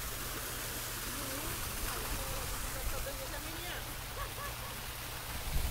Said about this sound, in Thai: เราเพิ่งเปิดน้ำนี่คือน้ำสองท่อของเรา